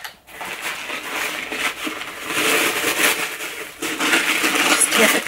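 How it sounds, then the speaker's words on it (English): Packing paper is pulled and crumpled off a glass lantern as it is unwrapped, giving close, loud bursts of rustling and crinkling that come and go in uneven waves. "get the paper off it."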